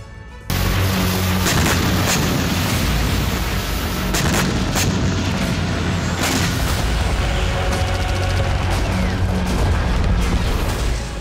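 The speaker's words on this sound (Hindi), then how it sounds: "कुर्स्क में भीषण जंग के बीच सूमी भी धधक रहा है, क्योंकि यहीं से कुर्स्क पर आर्टिलरी प्रहार हो रहा है।" Artillery fire from Sumy toward Kursk amid heavy fighting: loud, dense rumbling with repeated sharp booms and blasts, sustained and harsh throughout, with no clear speech.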